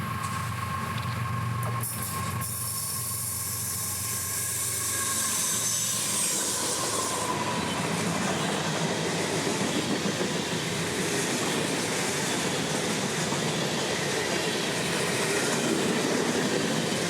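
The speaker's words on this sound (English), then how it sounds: "southbound freight cruising down the S-Line for Taft Yard in Orlando" A southbound freight train, mostly loaded auto racks, rolls past on the S-Line toward Taft Yard in Orlando, Florida, a steady loud rumble with hissing and clattering wheels that builds and stays close throughout, no voices.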